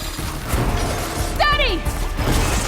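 A weapon reloads in the video game Horizon Forbidden West: a brief mechanical ratcheting click with a short rising whir, heard once amid steady game ambience and distant combat noise.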